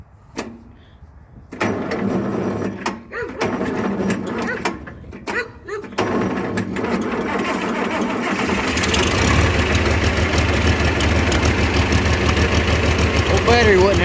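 A John Deere 4020 tractor on a cold day cranks with a few knocks and clunks, then its engine catches and settles into a loud, steady rumbling idle close by.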